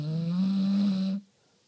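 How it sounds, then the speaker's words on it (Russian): A dog snoring: one drawn-out, buzzing nasal snore lasting just over a second, close and fairly loud, then sudden quiet. "Вот так храпит мой пес."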